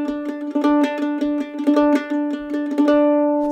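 Mandolin plays a lively Irish jig phrase with a quick triplet on the sixth note of each measure, picked in steady rhythmic groups, bright and close with no talking.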